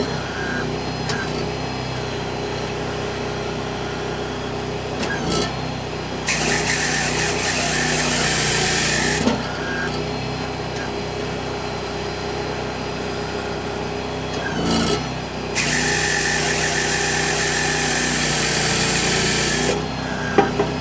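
A Chinese log processor cuts a 4-inch log: over a steady engine drone, two loud sustained saw bursts tear through the wood, each lasting a few seconds, with mechanical clunks between them.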